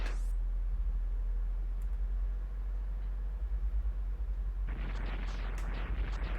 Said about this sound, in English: Oh no, he's going to be caught up in the explosion.